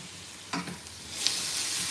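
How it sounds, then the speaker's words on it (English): Onions sizzle and crackle steadily in a hot frying pan while German potato salad is cooked, the frying noise swelling to a louder, denser hiss partway through with no talking. "Ooh, my pan is hot. Can you hear the sizzling?"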